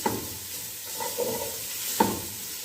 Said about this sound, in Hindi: अब 1 मिनट इनको फ्राई करूँगी, ज़्यादा नहीं